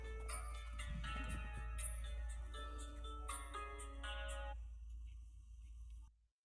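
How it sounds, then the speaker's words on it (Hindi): A phone ringtone plays a tonal electronic melody with repeating note patterns over a low hum, stopping abruptly after several seconds. "साहब जी आपका फोन आ रहा है।"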